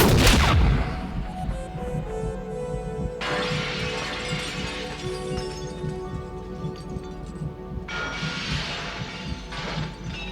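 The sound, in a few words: gunfire in the film Blade Runner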